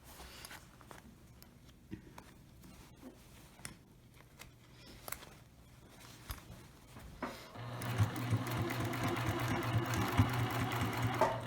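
Quiet handling sounds give way to a sewing machine stitching a lined tote bag with boxed corners, a steady close mechanical whir that starts partway through and continues to the end.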